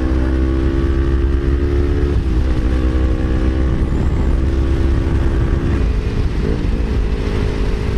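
Motorcycle riding at speed, captured on a GoPro Hero 4 Silver camera mic: a loud, steady engine drone with shifting pitch and heavy wind rumble, continuous throughout with no talk.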